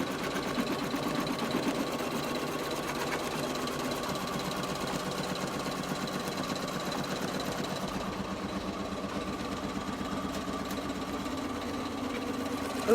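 Sewing machine stitching an applique onto a T-shirt, a steady fast mechanical whir and clatter running continuously at close range without pause.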